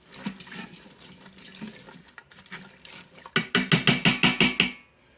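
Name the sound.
water added and stirred in Instant Pot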